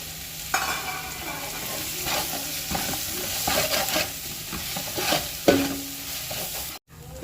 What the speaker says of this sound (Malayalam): ഇനി നമുക്ക് മല്ലിച്ചീരയും പുതിനയും കൂടി ചേർത്ത് വഴറ്റാം.